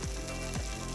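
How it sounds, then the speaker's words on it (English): Chorizo dropping into a warm pan sets off a steady, close sizzle of frying fat, with two brief scraping clicks near the start and middle over a constant crackling hiss. "Hear that nice sizzle? That means it's at a good temperature."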